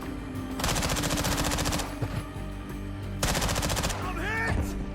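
Rapid automatic gunfire with armor-piercing rounds in a shooter video game, two sustained loud bursts of fast repeated shots with a short gap between them, and brief game effects near the end.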